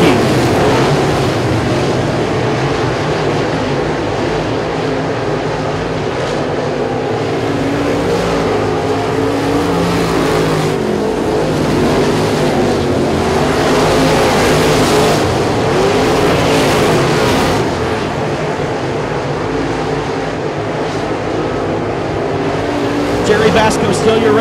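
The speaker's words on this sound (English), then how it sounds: "Bryce Fauntleroy's got a run down the backstretch on the 955 of Corey Neal Jr" Race cars roar around the oval at Sabine Speedway, a dense, loud continuous engine drone that rises and falls as the field passes, with a race announcer calling the action over it.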